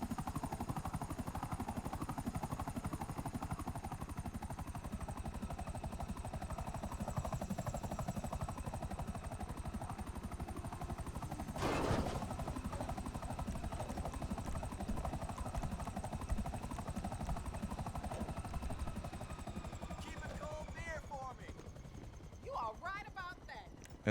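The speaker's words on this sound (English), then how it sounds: "don't worry about keeping that helicopter intact" Helicopter in GTA Online, a steady rotor drone running throughout under game sounds and talk, with a brief louder burst midway and scattered chirps near the end.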